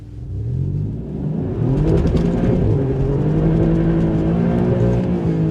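An Alfa Romeo Giulia Quadrifoglio accelerates hard on cold tarmac, its engine note rising in a loud, close, continuous roar with rising harmonics, without speech.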